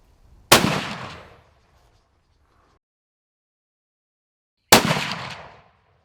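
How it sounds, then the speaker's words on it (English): Two sharp, loud rifle shots from a Ruger Hawkeye African Edition in .375 Ruger while zeroing at 100 meters, each a crisp crack with a short decaying echo, about four seconds apart. "We're going to zero the rifle at 100 meters."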